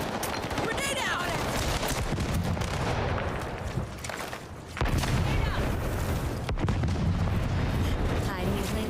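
Dense gunfire and explosive booms in the shooter game Highguard, loud and continuous across the whole stretch with a brief dip midway, chaotic layered shots with no clear gaps.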